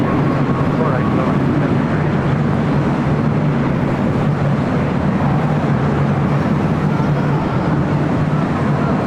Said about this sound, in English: United Dreamliner up next for arrival here